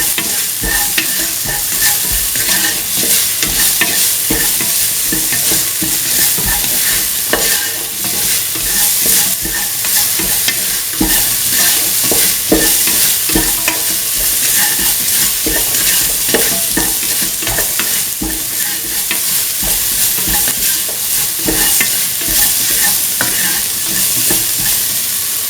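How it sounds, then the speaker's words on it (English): A spoon scrapes and stirs through beef and ash gourd in coconut milk stew in a hot pan, continuous close sizzling and frying under busy irregular clatter, with no voices. "Keep on stirring."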